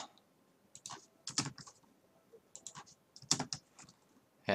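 Computer keyboard typing in irregular bursts of crisp clicks with short pauses between words, close and fairly quiet, followed by a louder keystroke at the end.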